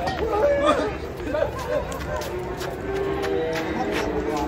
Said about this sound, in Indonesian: Yang satu ini banteng nih.